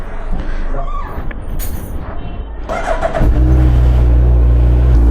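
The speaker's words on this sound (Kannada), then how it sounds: "ಬನ್ನಿ ಕೋಲ್ಡ್ ಸ್ಟಾರ್ಟ್ ಮಾಡೋಣ ಫಸ್ಟು" A new 2025 car's engine cold-starts after a stretch of background noise, catching with a loud, steady low rumble that holds to the end.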